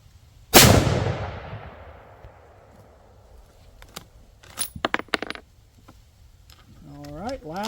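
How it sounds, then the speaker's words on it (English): A CZ 600 Alpha rifle in 6.5 PRC fires one loud, close shot with a long fading echo, followed by metallic clicks of the bolt being worked and a voice at the end. "A couple more shots."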